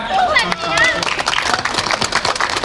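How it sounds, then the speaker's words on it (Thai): At an anti-drug school sports competition award ceremony in Lopburi, Thailand, an audience claps for a boy winning a prize, brisk crowd applause continuing as an announcer's voice speaks over the opening moments. "ขอเสียงปรบมือให้ กำลังใจนะครับเด็กชายธนดลนะครับ"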